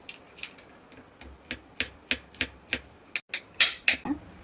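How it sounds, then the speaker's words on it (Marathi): Crisp, irregular knife strikes on a board as cashew nuts are chopped, a dozen or so sharp clicks and taps in uneven rhythm, close and fairly quiet with no talk. "काजू पण असेच कापून घेणार आहे"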